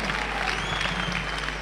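A church congregation applauding steadily during a French worship service, a dense wash of clapping hands with some crowd murmur throughout.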